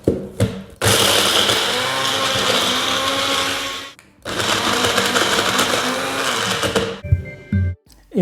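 A food processor whirring through cashews and lemon juice: a loud, steady grinding drone running for several seconds, a brief stop, then a second equally long burst before it cuts out, close to the microphone.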